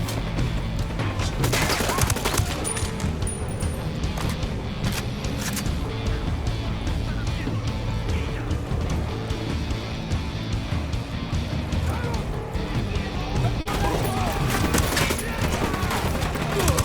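Sustained automatic gunfire from a Ghost Recon Wildlands firefight, dense rapid bursts running almost continuously at steady loudness with occasional heavier impacts layered in.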